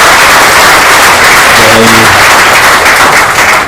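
Audience applause at an outdoor groundbreaking ceremony for the Irishtown Bend Cuyahoga River stabilization in Cleveland, a loud, dense wash of clapping filling the whole stretch, with a brief tonal murmur of voices partway through.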